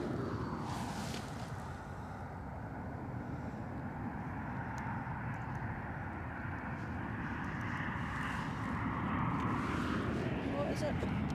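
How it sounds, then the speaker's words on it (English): An inbound Ryanair airliner from Stansted approaches Edinburgh Airport, a loud, steady broadband jet roar with a rising and falling whine that swells slightly toward the end, continuous for the whole stretch. "Just going to pivot round to the inbound plane."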